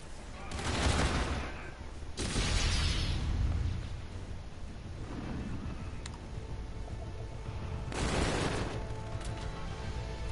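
Rapid gunfire from shotguns and submachine guns in Call of Duty, with two sharp bursts early and another near the end over continuous battle noise.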